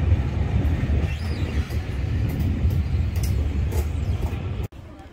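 A train hauling Pullman coaches rolls past close by, a loud continuous rumble and rattle of carriages that holds steady before cutting off abruptly near the end.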